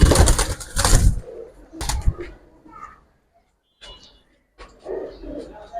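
Male giribaz pigeons at a market give a few soft, close coos amid loud handling rustles and people talking nearby.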